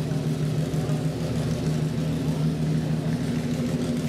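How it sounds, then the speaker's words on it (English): An old Aston Martin engine drones steadily at a classic car concours at the Palace of Holyroodhouse, a continuous mid-low hum with a strong tonal throb, held at even loudness against outdoor background. "If you're wondering what that noise is, that is an old Aston Martin."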